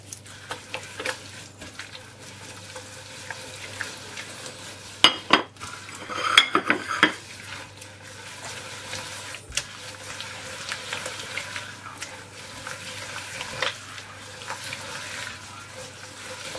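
Semolina being stirred into oil in a pan for Eid knafeh sweets: soft scraping and clinking of the utensil against the pan, with a brief louder cluster of scrapes midway, over a low steady background.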